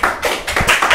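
Quick rhythmic clapping from a church congregation during worship, several sharp claps in about a second, close and without voices.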